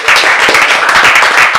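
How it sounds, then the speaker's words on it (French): A comedy show audience breaks into brief, loud applause, dense clapping from many hands filling the short burst at close, even strength. "Applaudissez."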